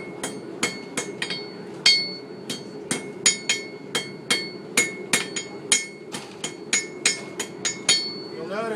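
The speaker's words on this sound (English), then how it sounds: "If your steel's heated up correctly, the steel will move with a moderate hammer blow." Steady hammer blows ring out on heated steel on an anvil, about two strikes per second, each a sharp bright clang over a low background hum.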